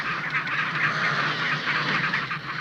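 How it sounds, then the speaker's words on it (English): Ring-necked Magellanic penguins call in a dense, continuous chorus of harsh, goose-like honking, fairly loud and sustained with no talking. "They are ring-necked Magellan penguins, named for the famed explorer who described the flightless birds as strange geese."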